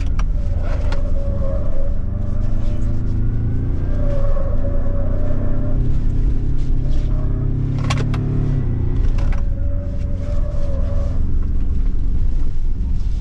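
Ford Ranger Raptor pickup accelerating hard through successive gear changes, its loud engine note climbing and dropping with each shift over steady road and wind noise, no talking.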